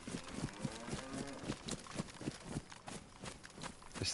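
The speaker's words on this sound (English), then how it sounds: "Cow there." Cow mooing in the DayZ video game, with repeated low lowing calls in steady pulses over a busy, noisy game backdrop that also carries footstep-like thuds.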